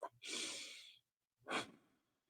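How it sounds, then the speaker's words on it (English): A single deep breath drawn in during a guided breathing exercise, a long airy inhale followed after a short pause by a briefer exhale, close to the microphone and alone. "Take a deep breath."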